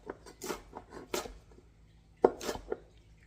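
Bok choy being roughly chopped with a stainless steel cleaver on a board, a handful of crisp, irregular chops with short pauses, close and fairly quiet.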